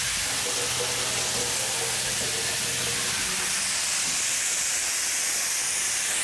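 Salt-and-pepper seasoned pork chops sear and brown in a hot pan, giving a loud, constant hissing sizzle up close with no talking.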